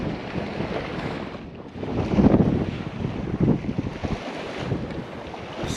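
Strong wind buffets the microphone on a beach during surf fishing, with gusty rumbling swells and breaking surf behind; the blasts rise and fall unevenly and no one talks.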